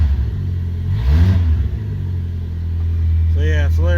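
A cold Geo Spectrum with a loud exhaust runs at a steady, deep idle close by, droning without a break while someone talks over it twice.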